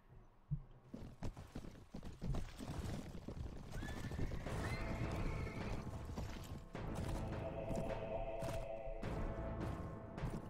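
A horse in the Mount & Blade Warband video game whinnies amid clattering hooves and busy battle noise, the sounds fairly quiet and continuous.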